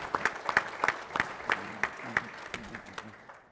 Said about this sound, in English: I just got the applause meter.